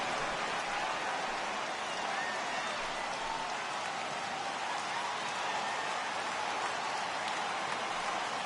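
Heavy rain falling on a baseball stadium, a dense, continuous hiss of steady downpour at even volume throughout, with faint crowd noise blended underneath.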